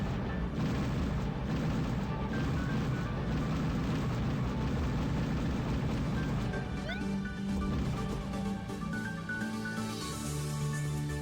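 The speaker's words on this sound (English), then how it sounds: "So we'll just sit back and enjoy the fireworks." Fireworks in the browser platform game Platform Racing 2, a dense, continuous barrage of booming crackles and pops with sparkling high bursts, steady and moderately loud throughout, no voices.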